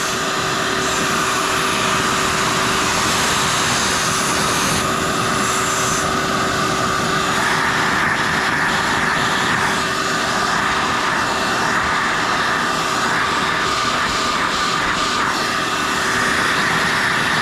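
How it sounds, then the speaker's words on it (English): A Hyde dust-free drywall sander hooked to a running vacuum, giving a loud, steady, full-bodied roar with a constant whine throughout and shifting airy hiss as the control valves are worked. "Control valves, you can hear them."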